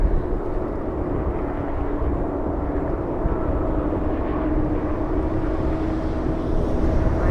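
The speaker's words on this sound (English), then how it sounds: "Alright, Emirates about to touch down." Emirates airliner touching down at LAX in a crosswind, a sustained low engine rumble and roar with a steady tonal hum, loud and constant across the stretch.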